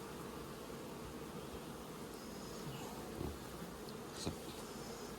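A dense, even hum of a bee colony fills the background, faint and constant, with a couple of brief louder buzzes passing near.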